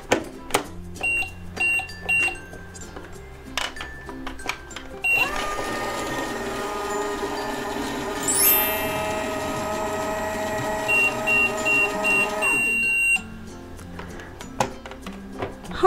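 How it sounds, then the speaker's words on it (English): A toy magic oven beeps several times, then runs with a steady whirring mechanical hum that rises briefly in pitch partway through, then stops, followed by more beeps, with no voices. "Let's use our magic oven."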